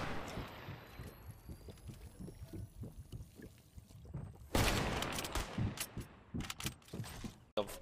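Gunfire from a gold AWP sniper rifle in Fortnite: a few sharp, loud cracks in the latter half, each with a burst of noise, after a quieter stretch of rumbling game ambience.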